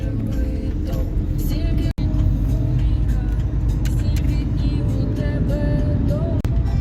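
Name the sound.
car driving off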